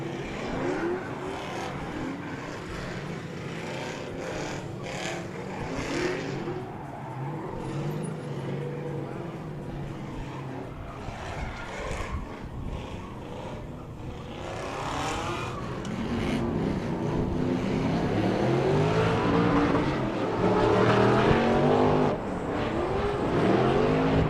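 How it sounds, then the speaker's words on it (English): An LS-powered Mazda RX-7 drift car rolls off the course at a drift event, its engine a steady, moderately loud drone with some rise in revs, blended with crowd and venue noise and other engines throughout. "Blaze Potts in that LS-powered Mazda RX-7 making their way off the course"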